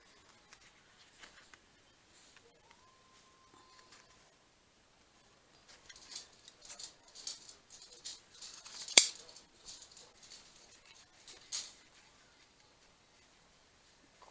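Scissors snipping paper during a card-making craft project, a quiet run of short crisp cuts clustered together with light handling rustles between them.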